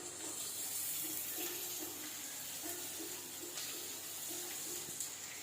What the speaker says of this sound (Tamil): வெங்காயம் கொஞ்ச நேரம் வதங்கட்டும்.